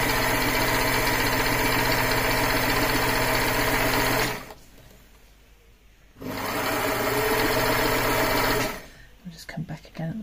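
A HandiQuilter Moxie XL sewing machine zigzag-stitches along the seam allowance of a quilted cushion cover in two steady, close bursts of mechanical whirring, separated by a brief pause and ending in quiet handling.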